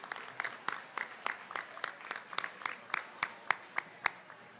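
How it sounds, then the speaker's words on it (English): Applause for sponsors at a Housing Oregon conference, a fairly sparse, distinct string of claps from a modest audience, moderately distant and soft, with no talk over it. "One more round of applause for them"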